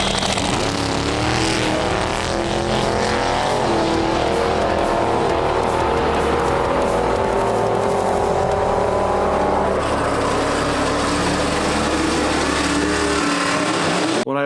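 Loud, sustained engine roar as a diesel daily driver and a supercharged Nova accelerate hard down a drag strip, rising harmonics climbing steadily before cutting off abruptly at the end.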